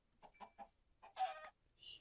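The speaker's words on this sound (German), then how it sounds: "Ich one-hitte die Hühner." A Minecraft chicken clucks in a quick series of short, bright calls, ending with a higher squawk, heard alone against near silence.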